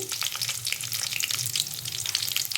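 Mustard seeds, cumin and dried chillies sizzle in hot oil as a tempering for khara pongal, a close, dense crackling fizz that runs without break and without voices.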